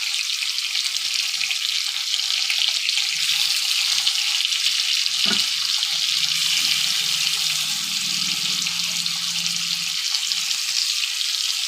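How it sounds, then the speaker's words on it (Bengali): Marinated hilsa fish pieces frying in a wok with cumin and green chilli give a continuous close sizzle, with a brief clink midway and a low bubbling undertone after. "এবার আমি মাছগুলো যে ম্যারিনেট করে রেখেছিলাম ভালো করে সাজিয়ে কড়াইতে দিয়ে দেবো।"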